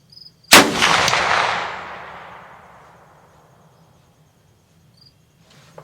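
A single loud gunshot rings out during a deer hunt in an open field, its boom decaying over a few seconds while crickets chirp quietly in the background.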